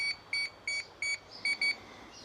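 A series of short, high electronic beeps from a DJI Mavic 4 Pro drone pairing with its controller repeats at a fairly even pace, six in all, faint and thin against a quiet room.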